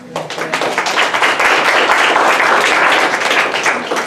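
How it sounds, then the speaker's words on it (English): Loud, steady applause from an audience at a university graduate fellowship panel session, a dense wash of many clapping hands that holds for several seconds with no speech over it. "you can hear the applause"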